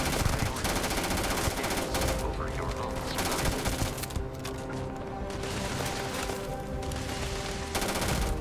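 Rapid, sustained gunfire from a weapon in the video game Starfield rattles on almost without pause, dense and loud, with a voice talking underneath.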